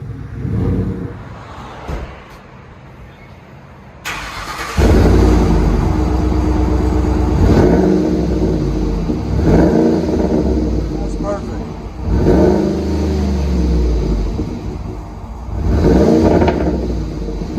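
A Chevy Suburban LTZ with a 5.3L V8 and its muffler removed revs repeatedly, loud and close, in surging pulses that rise and fall over a steady idle rumble. People talk briefly.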